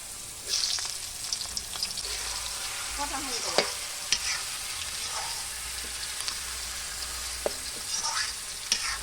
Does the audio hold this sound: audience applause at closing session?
no